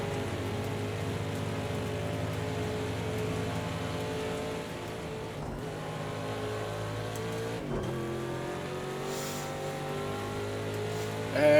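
Engine of a damaged Ford Mustang race car at Road America in a racing game, a sustained droning whine with shifting pitch, two brief dips like gear changes, and a louder burst at the end.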